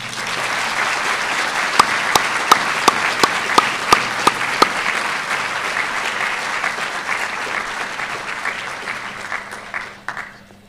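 Sustained applause from the audience at a veterinary school white coat ceremony, a dense, steady roar of clapping with a few sharp standout claps early on, fading away near the end.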